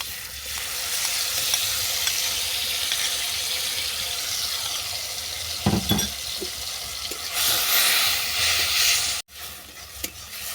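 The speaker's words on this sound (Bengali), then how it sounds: "তেল গরম হয়ে গেলে দেবো কিউবি ফল" Kuwvi fruit fries in hot white oil in a wok, giving a steady loud sizzle with bursts of stirring scrapes and a brief louder crackle toward the end.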